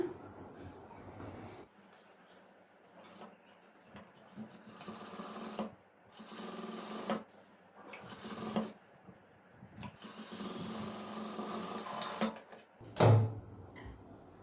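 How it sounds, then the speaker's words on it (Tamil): A sewing machine stitches a round shape into fabric for girls' shorts, whirring in repeated bursts broken by short pauses as the cloth is turned, ending with a sharp clunk; close and fairly loud, with no voices. "இதை வந்து நான் அந்த ஷேப் அப்படியே ஸ்டிச் பண்ணி டர்ன் பண்ண போகிறேன்"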